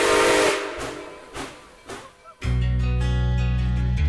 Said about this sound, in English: what it takes to restore a Redding T1